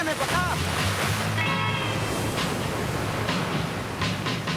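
Ocean surf breaks and washes along the Peruvian coast in a steady, loud roar of rushing water, with a voice speaking over it near the start.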